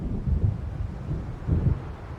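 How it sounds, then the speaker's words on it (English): Low rolling storm thunder rumbles in the Alan Wake Remastered video game, two deep swells rising over a steady windy background. "It seems there's a storm coming."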